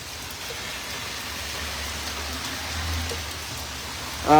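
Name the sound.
rain falling in New York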